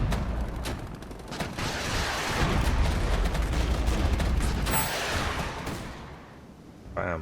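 In the game Regiments, a Lynx vehicle keeps firing its gun in a dense, continuous roar of shots and rumble that fills the scene for several seconds, then thins out before a final burst.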